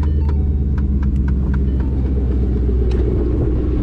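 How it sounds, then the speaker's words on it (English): A 2011 Mustang GT V8 with a Roush axle-back exhaust starts up and runs loud and steady with deep low rumble, a few brief sharp clicks and ticks over the top. "This is my favorite part, starting her up."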